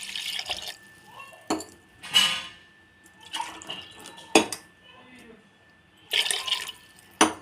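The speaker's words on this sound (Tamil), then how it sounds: "டம்ளர் தண்ணி ஊற்ற போகிறேன்" Water from a tumbler is poured into a pot of Ambur mutton dum biryani in a few short splashing bursts, with a voice talking between the pours.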